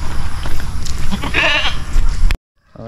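Goats on a farm bleat loudly and close, a wavering cry rising over steady rough background noise before an abrupt cutoff.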